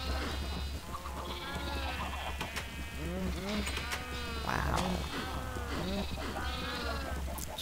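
Minecraft sheep bleat repeatedly in a crowded pen alongside other farm animals, the calls overlapping in a busy, constant chorus, with a voice briefly heard.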